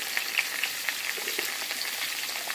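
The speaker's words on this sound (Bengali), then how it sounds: "এখন মা আলুটা লাল লাল করে ভেজে নেবে।" Potatoes frying in a pan with oil for chicken curry, a dense steady sizzle with small crackling pops throughout, close and loud, no voices.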